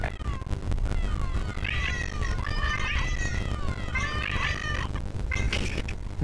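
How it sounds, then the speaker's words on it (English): A cat in The Elder Scrolls Online meows repeatedly when poked, several loud rising and falling mews in a row over game background sound. "Just like sitting there poking a cat."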